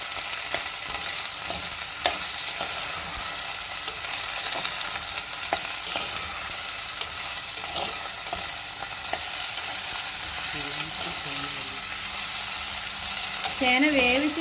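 Chopped raw elephant foot yam fries in hot oil, giving a steady, dense sizzle throughout with occasional stirring scrapes and a few faint clinks near the end.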